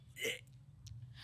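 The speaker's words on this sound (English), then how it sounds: "I can't burp words, but I can burp." A person forces out a short burp while trying to belch on purpose, one brief close guttural burst followed by breathy low rumbling and faint noises.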